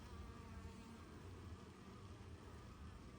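Bee buzzing near a backyard beekeeping setup, a faint continuous drone under steady background hiss, with no voices.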